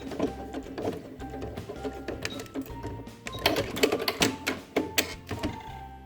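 A sewing machine runs a seam along the edge of a fabric DIY cosmetic case, its rapid mechanical stitching chatter coming in several close bursts with short pauses between runs.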